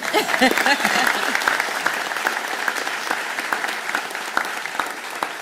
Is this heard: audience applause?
yes